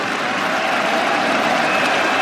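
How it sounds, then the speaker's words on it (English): Large cricket crowd at the Oval applauding and cheering steadily as the England openers walk out for Alastair Cook's 2018 farewell Test against India, a dense unbroken roar of clapping throughout. "What a reception! Everyone on their feet. A wonderful cheer for Alistair Cook."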